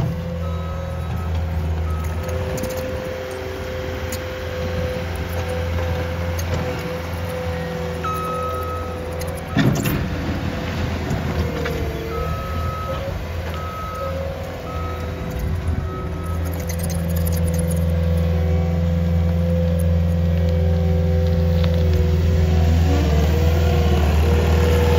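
A truck reverses while backfilling a trench over a newly installed gas line for a backyard pool, its steady reversing beeps repeating over a rumbling diesel engine that revs harder toward the end, close and loud with no talking.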